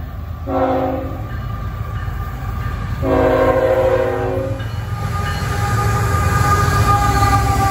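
A train horn sounds two long blasts over the steady rumble of a passing train at Lake Avenue, Blasdell, New York, loud and fairly close.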